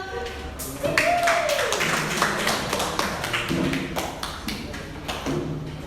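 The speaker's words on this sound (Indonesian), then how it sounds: "Tepuk tangan dulu." A class gives a short round of applause, a burst of fairly quiet, quick hand claps with a thump or two and a brief whistle-like tone near the start, in a classroom.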